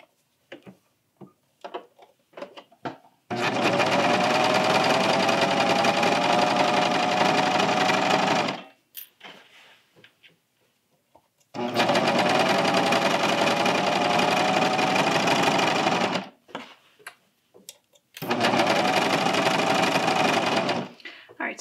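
A serger sews a seam on a Hemlock tee shirt, running up from the body hem through the underarm in three long, steady, loud bursts of about five seconds each, separated by quiet pauses with faint handling noise.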